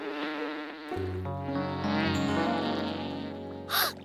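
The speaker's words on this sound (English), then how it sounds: "A bee! Shoo, bee! Shoo!" A bee buzzing in a park in a children's cartoon, a steady insect drone with a louder rising swell near the end, heard alone without any talking.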